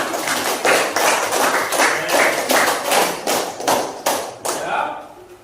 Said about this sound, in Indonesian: Oke, tepuk tangan buat diri kalian sendiri.